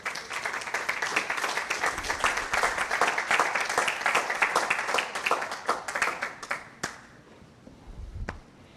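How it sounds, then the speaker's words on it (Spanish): A church congregation applauds with steady, dense clapping for several seconds, then the clapping thins to a few scattered claps and fades out. "dale un aplauso al Señor"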